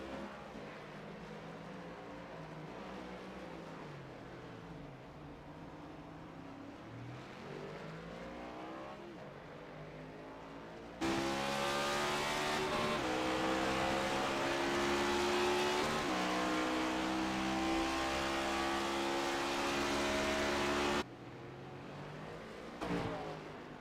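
Race car engine lapping the Circuit of the Americas track, loud and continuous, revving up and down through turns with a sharp jump in volume midway as the car passes close, then dropping back.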